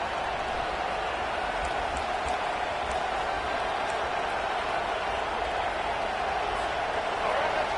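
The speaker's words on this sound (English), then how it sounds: "Here comes the crowd trying to make it tough on 3rd and long." Football stadium crowd noise on a third-and-long down, a steady broad roar across the whole span with no break, the home crowd making noise as the defense tries to get off the field.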